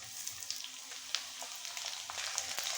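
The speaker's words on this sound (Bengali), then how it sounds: "সব কিছুকে আবারও খুব ভালোভাবে ভেজে নেব।" Chopped onion and raw green tomato frying in a pan for a Bengali puti fish curry, a steady soft sizzle with small crackles and pops, close and fairly quiet, no voices.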